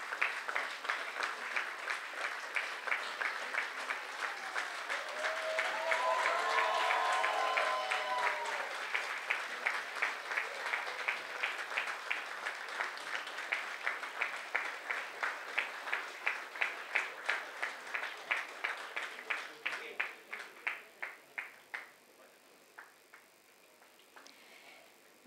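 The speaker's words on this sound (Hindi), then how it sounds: "तालियां बजती रहनी चाहिए." Sustained audience applause continues at an Indian folk music concert, at first a dense wash of clapping, then turning into rhythmic clapping in unison that slowly fades toward the end.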